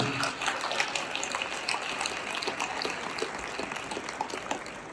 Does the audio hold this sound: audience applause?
yes